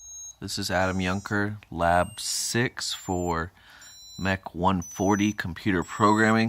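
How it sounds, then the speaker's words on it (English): Tiny high piezo buzzer tones from an Arduino sound thin and steady in the background while someone talks clearly throughout, their pitch shifting now and then. "What you're hearing right now is this little piezo buzzer making buzzes."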